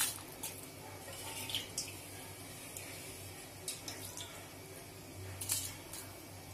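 Rice poured into a pot of water for Kolkata-style egg biryani, giving soft, faint squishy splashes and watery swishes with a few brief louder bursts and no talking.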